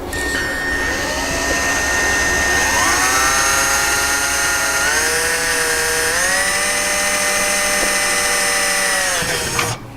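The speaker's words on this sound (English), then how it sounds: "now we're going to go ahead and drill our chin spoiler and get this installed" A power drill whines continuously while drilling a chin spoiler, its pitch rising and settling as it bites into material, loud and close, ending with a brief clunk.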